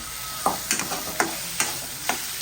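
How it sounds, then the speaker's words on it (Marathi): Bottle gourd pieces fry in hot oil in a pan, a steady sizzle punctuated by about six sharp scraping clicks of a spatula stirring at an even rhythm. "हे काय आपली दुधी पहिली फ्राय करून घेते तेलामध्ये"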